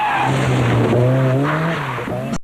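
A Ford Sierra RS Cosworth rally car drives hard on a Circuit of Ireland stage, its loud close engine note rising and falling through gear changes with a tire squeal and skid mixed in.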